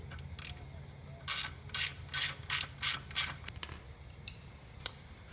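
A ratchet loosens a 10 mm bolt holding the fuel tank on a 1980 Suzuki GS1000G motorcycle, giving a series of quick, close clicking bursts with short pauses between them and no talking.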